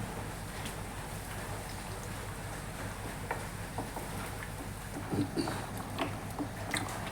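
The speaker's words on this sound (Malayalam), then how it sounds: "നമ്മുടെ മീൻ്റെ ചാറ് തിളച്ചിട്ടുണ്ട്." Sardine curry gravy simmers in a pan with a soft, steady bubbling and a few light pops, close and fairly quiet, with no voices.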